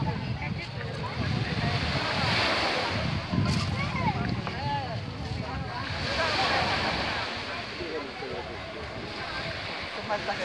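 Sea waves wash steadily at the shore in a continuous, broad rush, mixed with wind buffeting the microphone, with voices talking faintly in the background.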